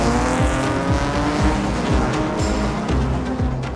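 Classic race cars of the St Mary's Trophy at the 2021 Goodwood Revival roar around the track, loud engines revving up and shifting in repeated rising sweeps, with tyres squealing as the cars pass close by.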